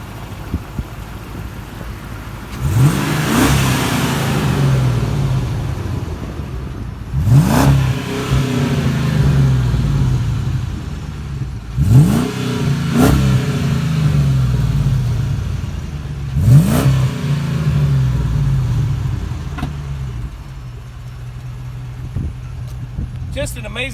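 An 2003 Jeep with a Hemi engine and aftermarket exhaust revs hard four times in a steady rhythm, each throaty surge rising and falling back to a rumbling idle, close and loud.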